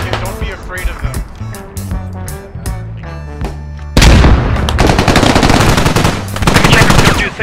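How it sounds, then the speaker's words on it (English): Enemy gunfire in a combat video game, rapid machine-gun bursts and booming shots that start sparse under music and speech, then erupt loud and dense from the middle onward while voices talk over it. "Are they shooting at us? I think they're shooting at us."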